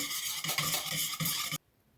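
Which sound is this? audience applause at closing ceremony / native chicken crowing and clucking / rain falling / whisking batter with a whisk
whisking batter with a whisk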